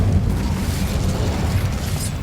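An Incendio fire spell blast in Hogwarts Legacy, a loud, sustained booming whoosh of flame that rumbles steadily for a couple of seconds with slight surges.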